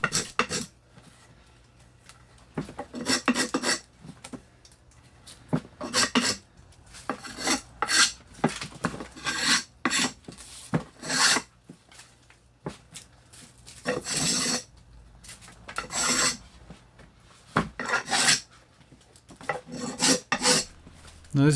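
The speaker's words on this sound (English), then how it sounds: "I'm using the spokeshave down at that palmswell region to scrub down the wood" Spokeshave scrubbing down the palm-swell region of a wooden axe handle: a steady run of short rasping strokes, close and fairly loud, each separated by brief pauses, with no talking.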